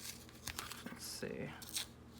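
Masking tape pulled and torn from a roll for covering a junk journal made from a box, short crinkly ripping bursts close up, with a voice talking over parts of it.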